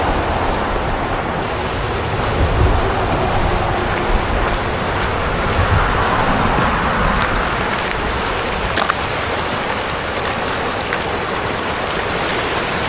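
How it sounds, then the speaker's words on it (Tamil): River water from Elk Falls rushes in a steady, full broadband roar, close and continuous with no breaks, with no voices over it. "எவ்வளோ அழகான ஆறு பாருங்க அந்த ஃபால்ஸ்லேருந்து வர தண்ணி தான் இது"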